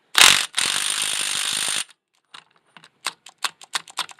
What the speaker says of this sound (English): I'm going to use the Ryobi cordless here because it's not especially high powered.